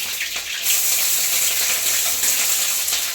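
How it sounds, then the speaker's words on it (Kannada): Garlic and curry leaves sizzling in hot oil in a pan, a loud, bright, continuous crackle that swells slightly after the first moment and holds steady. "ರೋಸ್ಟ್ ಆದಮೇಲೆ ಸ್ವಲ್ಪ ಕರಿಬೇವನ್ನ ಹಾಕ್ತಾಯಿದ್ದೀನಿ"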